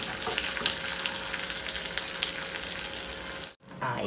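Small shallots and curry leaves frying in hot oil after mustard seeds have popped, with a continuous bright crackling sizzle and occasional stirring, close and steady before a short pause.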